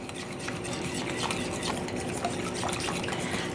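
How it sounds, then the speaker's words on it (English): Softened butter being mixed into gluten-free pumpkin cream cheese bread batter in a bowl, a continuous close scraping and sloshing stir with utensil taps against the bowl. "And now our 6 tablespoons of softened butter, all in one. And mix this till it's really combined."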